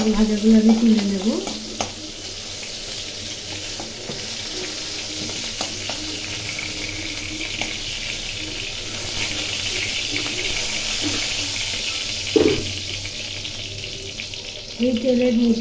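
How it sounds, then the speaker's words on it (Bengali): Fried pointed gourd (potol) is lifted out of sizzling oil, with a continuous frying hiss beneath occasional spatula scrapes and clinks against the pan. "পটল ভাজা আমার হয়ে গেল, এখন এই পটল ভাজাগুলো আমি তুলে নেব।"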